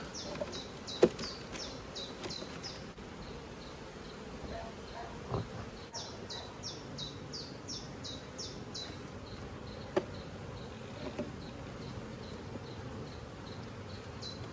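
A low, steady hum of a small number of buzzing honey bees at an apiary fills the background, while bursts of high bird chirps come and go at a distance.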